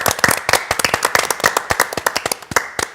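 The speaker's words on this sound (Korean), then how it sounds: "박수!" Quick, sharp hand claps from a small group, rapid and irregular, close and loud, with no voices over them.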